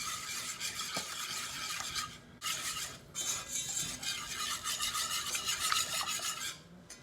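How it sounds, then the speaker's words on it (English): Butter and flour being whisked in a pan as a roux, a close, continuous scraping and stirring rasp with a brief pause partway through, alone without talk. "Continue whisking the butter because you don't want the mixture to burn."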